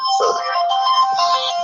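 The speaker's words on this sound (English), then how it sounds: "My phone's going off just a sec." A mobile phone ringtone plays close and loud during a talk, a bright melodic electronic tune that runs continuously with no speech over it.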